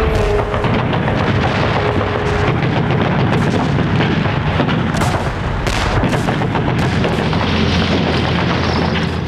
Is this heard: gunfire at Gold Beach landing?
yes